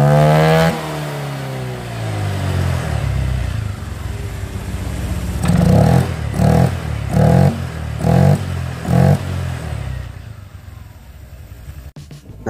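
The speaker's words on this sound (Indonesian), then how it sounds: "Kita coba geber gas." An automatic motor scooter's engine starts and settles after repair, then is revved in five short, even throttle blips that rise above a steady idle. The sound is close and clear, with no one talking.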